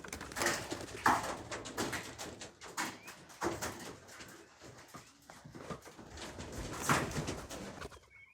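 Pigeons cooing at a backyard loft, soft repeated coos and scattered bird calls at moderate distance, with rustling and faint knocks between them, no talk.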